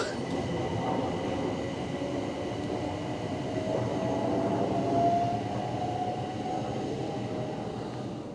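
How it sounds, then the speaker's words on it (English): A train rumbles steadily as it pulls away from the station, heard from a bridge, wheels clattering on the rails with a faint metallic squeal, swelling slightly then fading. "I'm gonna watch the train leave from the bridge."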